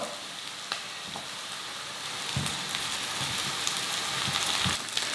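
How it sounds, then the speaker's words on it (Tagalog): Steady oily sizzling of eggplant frying in a pan, with occasional soft clinks and stirring sounds on top of the constant crackle. "At ipiprito ko lang ito ng mga 2 to 3 minutes hanggang sa mag-brown lang."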